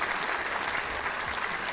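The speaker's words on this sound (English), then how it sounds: "round of applause to you all." Dense round of applause from a book club audience, a continuous wash of many hands clapping at a steady level throughout.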